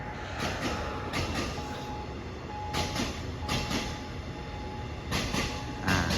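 Express train running past the Sri Ayutthaya road railway crossing, a steady loud rumble with rhythmic clattering of wheels and a continuous tone throughout.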